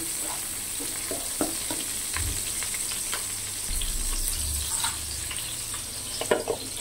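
Cumin, panch phoron, green chilli, bay leaf, cardamom, cinnamon and a little mace fry in hot oil, a steady close sizzle and crackle with scattered stirring clicks throughout, no talking.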